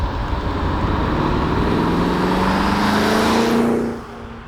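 A 1980s Mercedes 560 SEC coupe engine hums steadily and loud from inside, rising in pitch as it accelerates, then easing off near the end.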